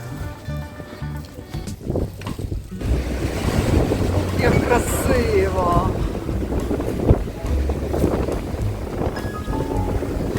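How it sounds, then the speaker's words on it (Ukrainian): Strong seaside wind on the Odesa coast at Arcadia buffets the microphone in a steady roar, with a voice talking briefly partway through. "А вітер тут який? Що це за вітер?"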